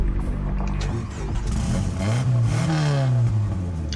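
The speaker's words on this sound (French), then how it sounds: "Alors ça c'est une fonction sympa où on peut faire un peu ronronner le moteur de la voiture." A car engine in the racing video game Nitro Nation revs up, its rising, throaty drone climbing in pitch and holding loud and steady over a low rumble, with no talking over it.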